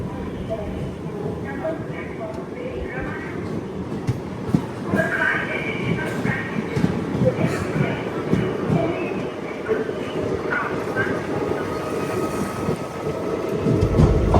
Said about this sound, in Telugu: మన ట్రైన్ని పుల్ చేసేది వ్యాప్ 4 లోకోమోటివ్